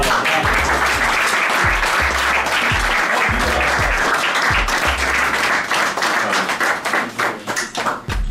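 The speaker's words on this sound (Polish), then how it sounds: "Brawa panu Korzenia." A crowd at a football club's championship celebration applauds a man, loud dense clapping with rhythmic thumping beats in the first half, then breaking into uneven bursts of claps that trail off.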